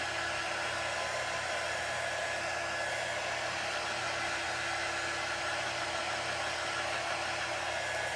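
A hair dryer blows steadily on a fresh coat of craft paint, a constant close airy whir that holds at even loudness for the whole stretch with no talking.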